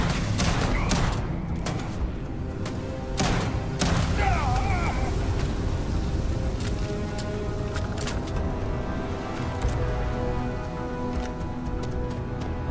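Grenade explosions in Starfield, a video game: several sharp, heavy blasts go off over a dense, continuous layer of game combat noise, with shots and thuds scattered throughout.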